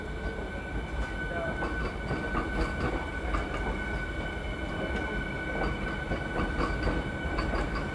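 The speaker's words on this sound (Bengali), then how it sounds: "এই মুহূর্তে এসি লোকাল ট্রেনটি স্টেশন ছেড়ে বেরিয়ে যাচ্ছে বন্ধুরা।" An AC local train pulling out of platform 3 at Krishnanagar City Junction, a steady rumbling roar with light rhythmic wheel clatter and a faint high whine, close and continuous.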